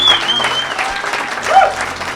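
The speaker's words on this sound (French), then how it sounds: "Give a clap offering unto the Lord" A church congregation claps in praise, a moderate burst of hands with a pastor's voice and music running over it.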